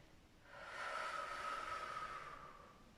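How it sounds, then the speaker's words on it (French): One long, deep breath during a vinyasa yoga session, a soft airy rush that swells and fades over a couple of seconds, close and quiet. "On fait 3 longs souffles ici."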